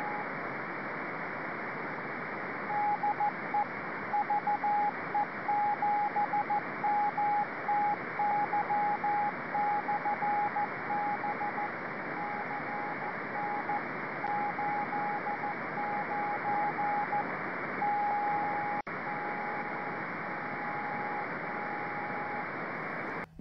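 A cheap SDR dongle receiver gives heavy, steady hiss with a faint, intermittent tone pulsing through the noise, close and constant for over twenty seconds, with no voices.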